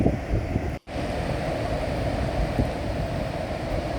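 Skogafoss waterfall in Iceland roars during heavy rain, a loud, steady, broadband rushing of falling water and wind buffeting the microphone, with one brief dropout near the start.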